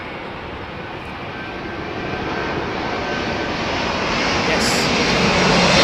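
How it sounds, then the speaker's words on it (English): A British Airways Boeing 777 lands at Heathrow Airport in gusty conditions, its jet engine roar steadily swelling louder and nearer, with a brief spoken word over it. "This is the first British Airways 777 we've had in."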